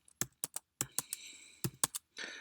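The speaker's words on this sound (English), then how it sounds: "hitting the tab key, and then typing the letter and hitting the tab key" Keystrokes on a computer keyboard, including presses of the tab key, come as a run of sharp separate clicks with uneven gaps, close and clear in a quiet room, ending in a short burst of faster typing.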